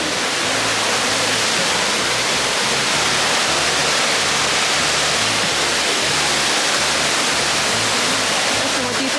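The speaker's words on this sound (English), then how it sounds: "So we're here at the waterfalls." Loud, steady broadband rush of a waterfall on a forest hike, a continuous roar that fills the whole clip without pause.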